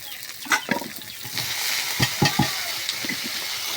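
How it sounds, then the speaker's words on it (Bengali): Spinach frying in a pan while being stirred, a bright steady sizzle broken by clattering scrapes and knocks of the spoon against the pan, close and fairly loud. "এবার আমরা পালং শাকগুলো দিয়ে দেব।"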